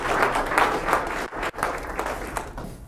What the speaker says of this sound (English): Would you give him a nice round of applause?